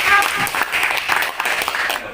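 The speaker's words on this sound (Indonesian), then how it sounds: "Tepuk tangan untuk kita semua." Group applause at a teachers' training session, a short burst of close clapping from a small room, with a few sharper hand claps and a voice or two mixed in.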